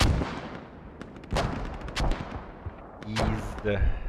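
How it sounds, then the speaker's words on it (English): Mortar and gunfire in a military combat game, several sharp booming impacts and bursts scattered over a few seconds, fairly loud against a rumbling battlefield background. "Mortars going in."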